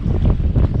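Strong stormy wind buffets the microphone during kayaking at sea, a loud, gusty roar with pulsing low rumble and no speech.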